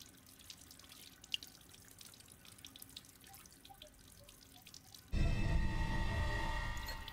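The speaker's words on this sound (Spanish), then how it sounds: "¡Ah, un grifo! Vale, con esto podemos limpiar el anillo." Water tap in the Resident Evil Village video game, faint drips and small splashes at first, then a sudden loud, steady gush of running water for the final two seconds.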